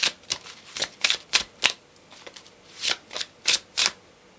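Tarot cards are shuffled close by in a run of crisp, rhythmic riffles and slaps, about a dozen quick bursts with short pauses, with no talking.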